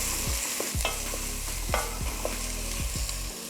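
Onions sizzle and caramelize in a pan, with repeated scraping and stirring strokes of a utensil over a continuous gentle fry, close and fairly loud.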